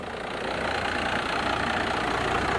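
Steady, loud idle from the engine of a first-generation 12-valve Cummins diesel truck, a constant low rumble with a fine clattering texture and no breaks.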